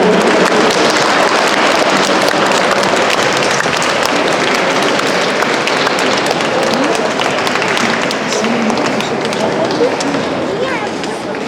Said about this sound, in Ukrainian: До останнього артиста плескаємо